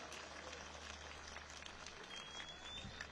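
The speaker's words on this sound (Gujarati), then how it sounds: "જોરદાર તાળીઓ પાડો આપણે બધા" Crowd applause at a large political rally, a dense continuous patter of many hands clapping, heard at a distance and fairly faint, steady throughout the moment.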